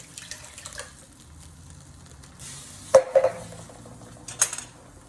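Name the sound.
tomato added to a pan for bean curry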